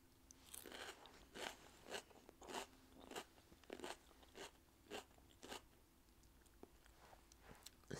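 Crunchy peppers chewed up close in soft, quiet bites, a crisp crackling crunch repeating in an uneven rhythm about once a second, with no talking.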